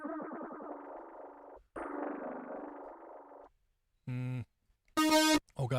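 A phaser plugin on a studio stream sweeps a synth tone, with a long swirling phrase, a second sustained stretch, then short bright stabs near the end; loud and close, no voices.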